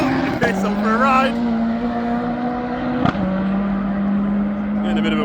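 A drag racing car roars down the strip at around 160 mph, a loud sustained engine tone climbing through gear changes with a sharp shift crack midway, while an announcer talks excitedly over it.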